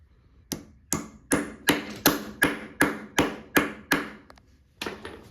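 Steady hammering while removing a radiator, about ten sharp metallic blows in a regular rhythm, close and fairly loud, with a short pause before a final strike.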